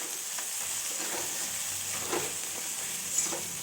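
Fish oil cooks in a pan with a faint, even frying hiss, broken by a few soft stirring scrapes and light pops, quiet overall with no talking.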